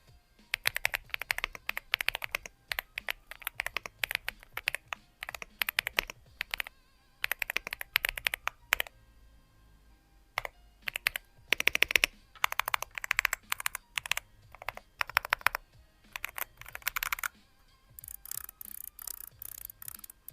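Steady bursts of typing on a fully sound-dampened mechanical keyboard, unlubricated and unmodded, comparing the AULA F75 with the AJAZZ AJ820: soft, muted keystrokes in fast runs with brief pauses, close and alone with no voices.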